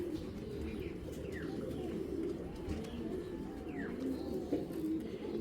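A Bezi-line female pigeon coos in a soft, ongoing low burble, with a few faint chirps from other birds scattered over the steady background.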